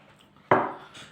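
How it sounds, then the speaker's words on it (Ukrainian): Milk is poured into a bowl of cereal in one short splash that starts abruptly and fades within about half a second, close and fairly loud against a quiet room. "І молочка заливаю."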